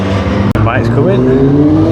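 A road racing motorcycle at the Armoy road races passing close at speed, a loud rising engine scream that swoops down in pitch as it goes by, with a sharp click partway through.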